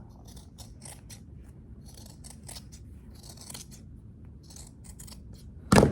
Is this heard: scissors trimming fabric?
yes